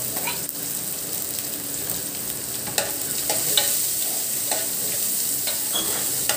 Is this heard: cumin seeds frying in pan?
yes